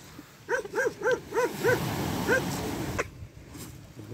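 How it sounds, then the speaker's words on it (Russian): A dog on a beach barks at a man, a quick run of about five sharp yaps, then one more after a pause, close and loud over a soft outdoor background. "Песель облаял. Песель облаял мужика."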